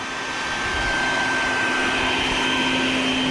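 A battery-powered vacuum runs steadily and loudly while sucking baldfaced hornets from their nest, a continuous close whine with a stable tone.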